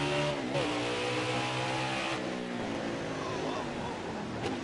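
Race cars accelerating at a green-flag restart at Watkins Glen: a continuous loud engine roar with rising and falling revving pitch as cars pull away, a commentator's voice talking under it.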